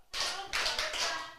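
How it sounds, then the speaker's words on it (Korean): A church congregation claps together in a short burst of hand claps, loud and close, with two or three clustered waves of clapping and no talking. "참 잘했다 박수 시작."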